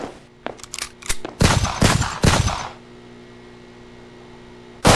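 Several sharp pistol shots in the Horror Engine game demo, fired in a quick uneven burst with ringing tails, followed by a low hum and one more loud shot at the end.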